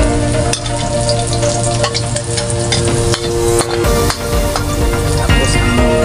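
Garlic hits hot oil and sautés with a loud, close crackling sizzle. Stirring scrapes run under it, along with a faint steady hum, and the frying keeps going throughout.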